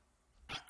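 One short, sharp dog bark bursts out from a near-silent background, followed by a faint trailing sound.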